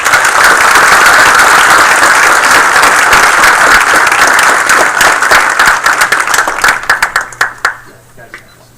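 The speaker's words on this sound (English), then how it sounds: "And a round of applause again for the officers." A council meeting audience gives a loud, dense round of applause for officers; the clapping holds steady, then thins into scattered claps and fades out.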